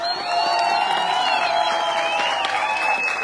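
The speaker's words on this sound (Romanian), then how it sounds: "aplauze!" A large crowd at an outdoor town-festival concert in Sângeorz-Băi, Romania, applauds and cheers in a steady, dense wash, with whoops and shouts rising over the clapping throughout.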